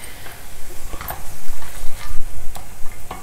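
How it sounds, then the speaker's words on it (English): A spoon stirs tomato sweet pachadi with cashews and raisins in a pan, giving repeated scraping and clinking strokes over a soft sizzle, loud and close. "Mix everything well together till all the syrup is absorbed."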